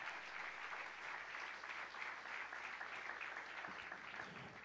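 A church congregation claps together in steady, even applause, very faint and distant, continuous throughout with no voices standing out.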